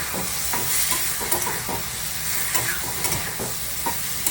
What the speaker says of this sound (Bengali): হলুদটা দিয়ে দিলাম, হলুদটা দিয়ে একটু নেড়ে ছেড়ে নেবো।